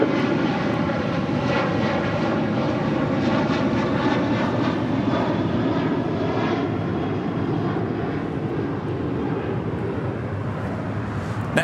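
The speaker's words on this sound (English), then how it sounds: "This flight already rolling down 25 right." A Spirit Airlines A321neo accelerates down runway 25 right at LAX on its takeoff roll, a loud, sustained jet engine roar with layered tonal whine that stays strong and steady throughout.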